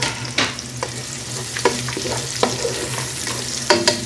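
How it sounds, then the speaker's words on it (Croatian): Red onion frying in oil in a pan for a chicken liver dish, with a steady close sizzle and several sharp scraping clacks as it is stirred, no voices. "Da nam se prži crni luk"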